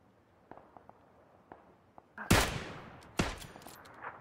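Gunfire in PlayerUnknown's Battlegrounds: a few faint distant pops, then a loud sharp shot with a decaying tail and a second burst a moment later, with scattered quieter reports around them.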